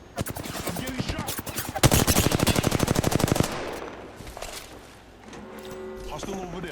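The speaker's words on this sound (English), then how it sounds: "Yeah, getting shot at." Gunfire in the Apex Legends video game: rapid automatic bursts, loud and dense for a few seconds, then fading into scattered game sounds and tones.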